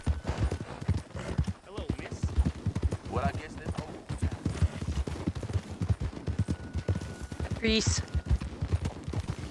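Horse hooves clip-clop in a steady rhythm throughout, set in Red Dead Redemption 2 during a winter endurance race near a stable, with a voice talking over them and a brief whinny-like sound near the end.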